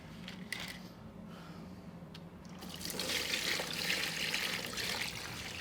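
Evapo-Rust liquid is poured onto cylindrical grinder parts, starting with a few faint drips and then becoming a steady, soft splashing hiss of pouring liquid partway through.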